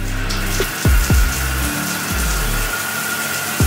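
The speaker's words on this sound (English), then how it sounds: "you turn on the water fountain." Water pours steadily from a shower fountain in a luxury hotel room in Mykonos, Greece, a continuous rushing splash with a few brief gurgling swoops and knocks near the start.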